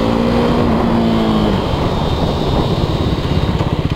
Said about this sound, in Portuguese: Motinho rápida.